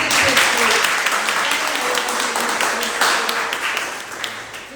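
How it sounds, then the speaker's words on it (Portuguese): A church congregation applauds during a worship service, a dense, loud burst of many hands clapping that stays strong before easing slightly, with voices mixed in beneath. "eu quero que você aplaude ao Senhor"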